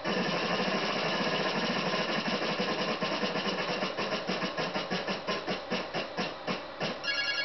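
The prize wheel spins in the NES game Wheel of Fortune, a steady buzzy ratcheting clatter of clicks that slows toward the end as the wheel winds down.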